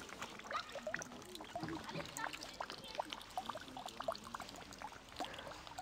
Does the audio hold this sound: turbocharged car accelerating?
no